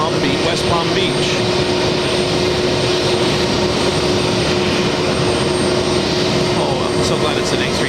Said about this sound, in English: this is JetBlue Flight 1154 inbound from Palm Beach, West Palm Beach